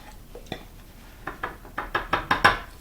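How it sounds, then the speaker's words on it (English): Small fine whisk stirring salt and pepper in a kitchen bowl, heard as a run of light, quick ticking clinks that grow louder and more regular toward the end, close and without talk. "And just whisk that around together"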